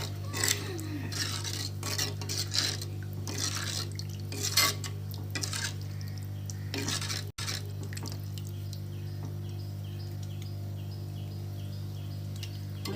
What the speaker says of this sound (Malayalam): പാത്രം വെക്കുന്നു